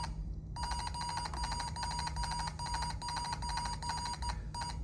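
An Atari 800 computer emits a steady run of bright, evenly pulsed beeps while loading from disk on reboot, repeating about twice per second over a low background hum, fairly loud and close with no talk.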